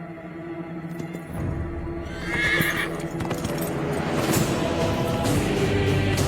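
A horse neighs and whinnies amid a busy film soundtrack in a Hindi movie scene, with hoof clip-clop and rising music building into a dense, loud mix.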